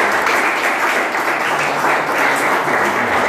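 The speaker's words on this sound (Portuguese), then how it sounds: "Aplauda o Senhor" A church congregation bursts into dense, loud applause during a sermon, a continuous wash of many hands clapping at once that holds steady throughout without any talking.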